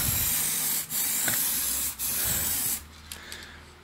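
Steady hissing spray paint from an aerosol or spray gun, applying a red coat, broken by a couple of short pauses, close and loud, then stopping near the end.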